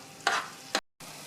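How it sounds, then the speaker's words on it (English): Meat sauce with tomato paste and oregano sizzles in a pan, a steady frying hiss broken by two louder scraping stirs and a brief gap of silence. "The meat sauce is sizzling away."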